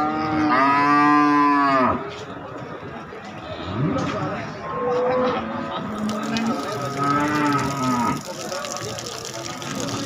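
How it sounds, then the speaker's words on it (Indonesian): Two long, loud moos from cattle, including Simmental and Limousin, close by at a cattle market, separated by a few seconds of market bustle with murmuring voices and scattered animal noises. "Ada sapi-sapi bakalan tadi, ada simental limusin dan juga ada sapi pekon."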